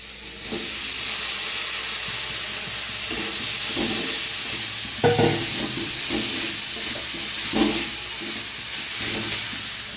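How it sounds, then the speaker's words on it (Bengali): Potatoes and banana stem sizzle and fry in spice paste in a pan for a Bengali vegetarian dish, a steady hiss with repeated louder stirring scrapes, close and without talk. "মশলাটা কষানো হয়ে গেছে, আমি ভেজে রাখা আলু আর থোর দিয়ে দেবো।"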